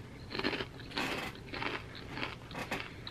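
Takis Fuego hot pepper and lime tortilla chips being bitten and chewed up close, five or six loud crisp crunches in an uneven rhythm with short pauses between them.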